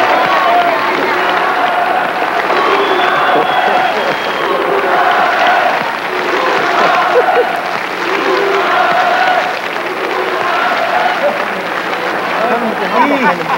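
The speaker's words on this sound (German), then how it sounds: "es war vor allen Dingen ihr Applaus für Klaus und Klaus" Studio audience on a German TV variety show applauding Klaus und Klaus, a dense, steady wash of clapping that carries on throughout while a host talks over it.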